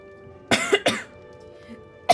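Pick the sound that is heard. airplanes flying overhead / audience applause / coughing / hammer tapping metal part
coughing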